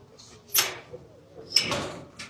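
A greenhouse door opens with two scraping, rattling bursts and a soft knock between them, fairly close in a quiet space.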